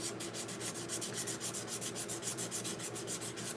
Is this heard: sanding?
yes